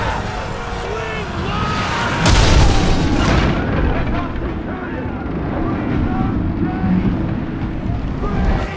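Incendiary projectiles from a Roman fleet crash and explode against ships in Ryse: Son of Rome. A loud booming impact mid-clip is followed by rumbling and crackling. Voices are heard over the battle noise.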